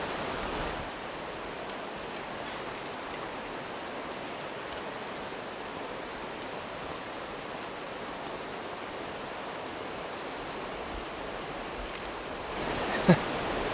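A small river in a mountain bottom runs as a steady, even rush of broadband water noise, fairly near and constant throughout, with a brief louder knock near the end.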